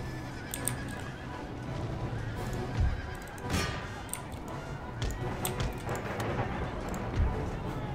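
Cuirassier cavalry horses in an Empire Total War battle, several loud neighs and whinnies over a constant rumbling bed of hooves and battlefield noise.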